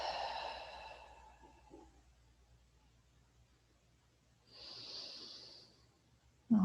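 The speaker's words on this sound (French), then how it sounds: "J'inspire et j'expire." Slow deep breathing during a guided relaxation meditation, a long soft exhale at the start followed after a quiet pause by a gentle inhale, faint and close with no talk.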